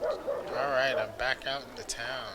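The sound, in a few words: dogs barking in town, Mount and Blade video game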